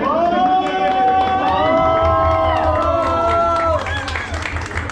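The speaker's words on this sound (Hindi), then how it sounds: "अपने लिए तालियां भी देख खुद ही बजानी चाहिए।" A crowd at a motorcycle riders' meetup claps and cheers together, with loud shouting voices riding over a continuous patter of hands for the whole stretch.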